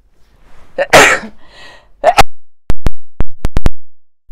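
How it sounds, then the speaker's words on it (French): A person sneezes once with a loud, close burst after a short indrawn breath, followed by a quieter sniffing sound and a series of sharp clicks or taps. "Donc voilà, j'ai éternué."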